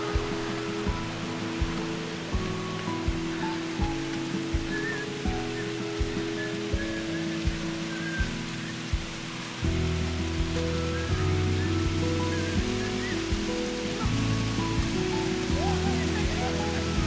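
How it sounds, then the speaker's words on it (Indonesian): A small mini waterfall on Gunung Puntang pours in a steady, broadband rush of falling water close by, with a low rumbling undertone that grows fuller partway through; no clear talk over it. "Nah, dan ini dia air terjun ininya."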